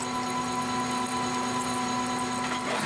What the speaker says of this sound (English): Body drill, that is.